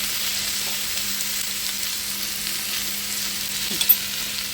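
Cabbage and a tomato stir-fry in a pan with a soft, even sizzle, and a couple of brief spatula knocks toward the end; no one speaks.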